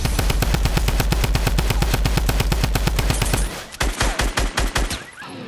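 A minigun fires in the Fortnite video game as a loud, rapid, sustained burst of evenly spaced shots, then breaks into a few shorter, choppier volleys near the end.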